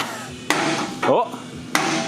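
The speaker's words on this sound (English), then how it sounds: "I've never used a hammer this big on here" A big hammer strikes a Jeep JK steering drag link with loud, close metallic whacks. There are two sharp blows about a second apart, and a short vocal exclamation comes between them.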